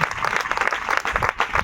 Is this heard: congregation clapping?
yes